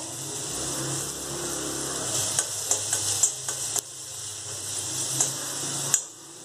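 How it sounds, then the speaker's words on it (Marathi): Green chilli thecha and turmeric sauté in a pan with a steady moderate sizzle, marked by a series of small ticking spatula taps and scrapes, no talking. "आता तो ठेसा आपण टाकून घ्यायचा, चांगला परतून घ्यायचा."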